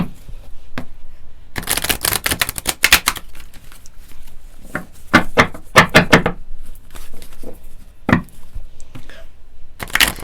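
Black Moon astrology cards pulled and shuffled by hand, a run of dense, rapid riffling bursts with short pauses between, close and fairly loud, with no talking.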